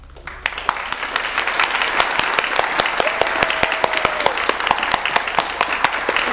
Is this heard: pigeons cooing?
no